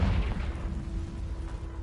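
Confringo blasting curse detonating in the Hogwarts Legacy video game: one heavy, close boom right at the start whose low rumble decays over the following second and a half, leaving a faint steady hum.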